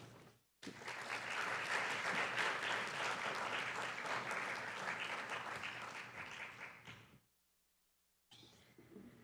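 Audience applause welcoming a lecture speaker at a university honors colloquium, a dense, steady burst of clapping for about six seconds that cuts off sharply, followed by a short silence and the start of quiet room sound.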